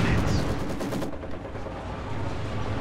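Machine gun fire in the real-time strategy game Company of Heroes 2, a dense continuous rattle of rapid bursts mixed with rumbling battlefield noise, loud and close throughout.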